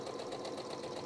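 A sewing machine running steadily as it stitches a seam on a pair of trousers, a continuous close mechanical whir with a fast, even pulsing rhythm and no pauses.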